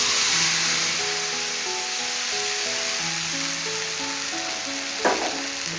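A ground spice paste of tomato, ginger and green chilli, with turmeric and a little sugar, fries in hot oil, giving a steady close sizzle under soft background music, with a brief louder splutter near the end.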